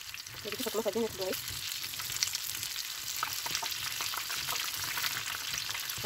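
Tuna pastels fry in a small pot of oil with a continuous bubbling sizzle and scattered crackles, close and moderately loud, with a few brief tonal clinks early on.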